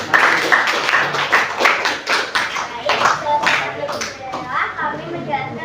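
Scattered hand clapping from a small classroom group, uneven and lively, mixed with children's voices chattering over it.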